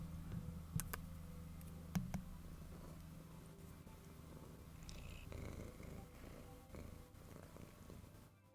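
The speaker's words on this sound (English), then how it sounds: "Oh, silly noisy purr." A soft, steady cat purr close by, with a couple of faint clicks early on and some handling noise partway through.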